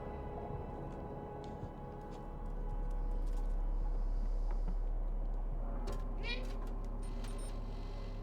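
A cat meows a few times in the video game Stray, short tonal cries near the end over a steady low ambient hum, with faint clicks and knocks earlier and no talking.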